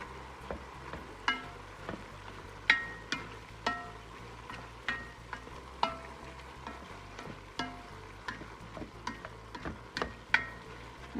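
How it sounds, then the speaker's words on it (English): A spoon stirs garlic into soup in a crockpot, with repeated soft scraping and knocking strokes against the pot at an uneven, unhurried rhythm, close and fairly quiet, with no talking. "And then I am adding garlic. Get that stirred around."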